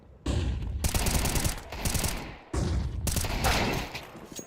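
Gunfire in Counter-Strike 2 during a tournament match: two bursts of rapid, loud shots, each lasting over a second, with a short pause between them.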